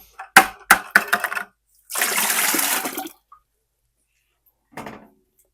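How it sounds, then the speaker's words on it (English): Tap water is poured into pans for soaking dyed yarn skeins. Several sharp clatters of pans being handled come first, then a second of steady splashing water, and later a short softer knock, all close up with no voices. "So I'm putting 2 cups of tap water in each pan."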